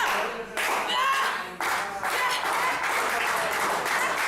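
Women's extreme wrestling crowd clapping to urge on Nikki Storm, loud sustained rhythmic handclaps from a small audience with voices mixed in, briefly dipping twice before continuing steadily.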